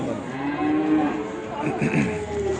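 Cattle low and moo at a Ceyhan livestock market, a few overlapping calls close by and fairly loud amid the general crowd hubbub of the sale yard.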